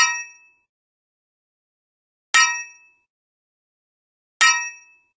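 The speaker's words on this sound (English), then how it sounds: "let's play it back to hear the Soundseed Impact synthesis in real time" Three separate synthesized impacts from the Wwise SoundSeed Impact plug-in, each a sharp metallic clang with a bright ringing tail, spaced about two seconds apart with silence between them.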